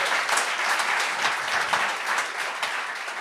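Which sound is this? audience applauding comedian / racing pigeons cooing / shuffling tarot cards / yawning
audience applauding comedian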